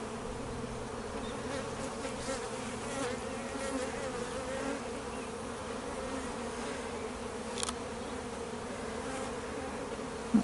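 Dense swarm of honeybees buzzing steadily and close as they are shaken down into a brood box, a continuous drone with a few brief knocks and no talking.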